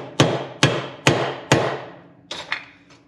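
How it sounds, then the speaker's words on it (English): A socket is struck with a hammer to punch a hole through a dirt bike gasket: four sharp, evenly spaced close taps, then two lighter knocks and a faint final one, with no talk. "Let's see if a socket will cut through gasket."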